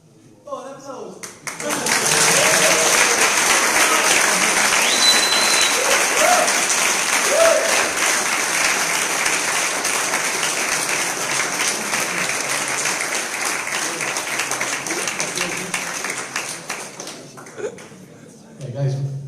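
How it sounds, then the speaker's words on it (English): Audience applause after a technical talk on scalability at a tech meetup, a dense sustained clapping that swells quickly and holds for most of the stretch before thinning out, with a few voices and chuckles mixed in. "Oh, an applause!"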